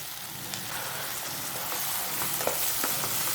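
Finely chopped tomatoes fry in a pan with ginger garlic paste for a chicken gravy, giving a steady close sizzle with faint popping spatters, no voices.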